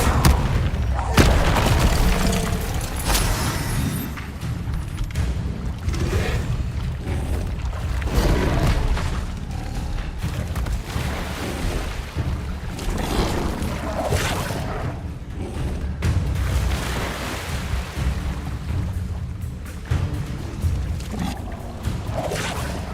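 Fiery blasts of the Incendio spell in the Hogwarts Legacy video game erupt as a series of loud, booming whooshes over a rumbling game soundscape.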